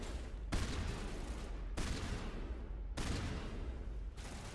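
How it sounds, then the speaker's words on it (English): Heavy booming blasts from a video game shotgun firing explosive rounds repeat roughly every second, each followed by a rumbling explosive tail, with no talking. "Just big explosions, huge damage."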